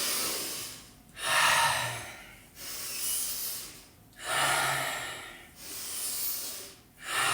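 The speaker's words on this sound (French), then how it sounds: "j'inspire par le nez, j'expire par la bouche." Slow, deep breaths drawn in through the nose and pushed out through the mouth during a mobility routine, close and alone, in four or five long rising and falling cycles with airy, hissing exhales.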